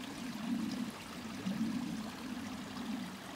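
A mountain stream in the Adirondack High Peaks flows close by in a steady rushing babble, with a low gurgling pulse rising and falling.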